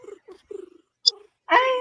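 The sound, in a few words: cat meowing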